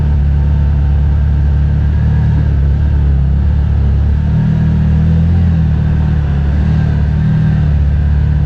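A CFMOTO UForce 1000 UTV crawls in low range and two-wheel drive, its engine giving a steady, close, low rumble that barely changes for the whole stretch, with no talk over it.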